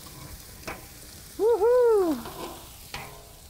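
Steaks and potatoes sizzle on a burner beside a sizzle platter, a steady close frying hiss that continues underneath a loud, drawn-out cheering exclamation from a voice.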